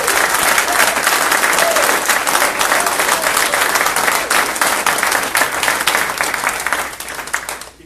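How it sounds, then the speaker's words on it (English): Loud, sustained applause from a crowd, dense clapping that holds steady and then fades at the end. "I just want to give him a round of applause for doing it."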